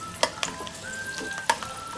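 Green chillies sautéing in hot oil in a pan give a steady close sizzle, with a few sharp clicks and pops and a faint thin whine running beneath it.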